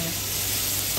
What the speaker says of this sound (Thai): รวนหมูไปเรื่อย ๆ